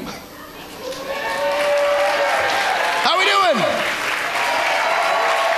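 Loud audience applause on a cruise ship fills the space, steady clapping from a large crowd while someone speaks over it.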